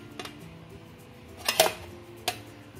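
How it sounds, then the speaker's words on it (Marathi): A lid is set onto a pot holding cooking milk cake barfi wrapped in a towel, heard as a few light metallic clinks and taps, one louder clatter in the middle, close by. "हे झाकण ठेवते मी."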